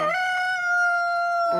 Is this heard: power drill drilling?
no